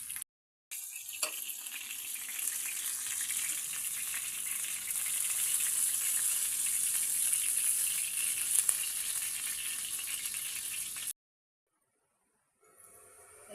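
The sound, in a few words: kofta balls frying in oil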